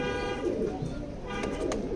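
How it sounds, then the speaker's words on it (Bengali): A racing pigeon coos in a steady low rumble, close by and fairly loud, under a faint background hum with no talk over it. "এটা খুবই একটা ভালো কবুতর।"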